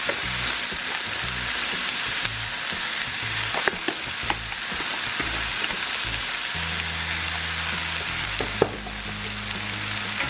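Sliced Honeycrisp apples with about a cup of brown sugar in a hot pan, a loud steady sizzle with intermittent stirring scrapes and clicks, no talk.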